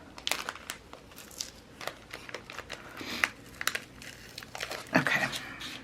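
A sticker number is slowly peeled off its backing for a Disney scrapbook page, giving irregular close crinkles and small ticking snaps that run throughout, with a few sharper pops near the end.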